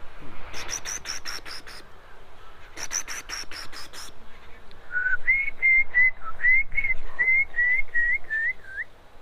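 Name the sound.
whistled imitation of morning bird call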